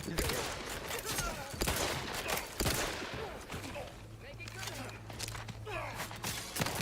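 Rapid gunfire from The Outer Worlds 2 crackles in dense bursts over an office-party firefight, with footsteps in the background. Heavy shots break up the stretch between them.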